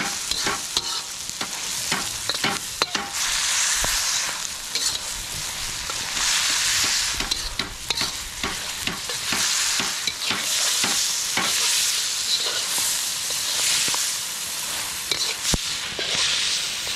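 Food fries and sizzles loudly and steadily in a hot pan, with frequent stirring scrapes and pops breaking through the constant hiss.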